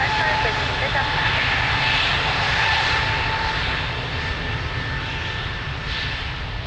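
Airliner engines roaring at Lisbon Airport during a takeoff from runway 02, a loud continuous broadband rumble with a steady whine that holds throughout, heard together with radio voice chatter.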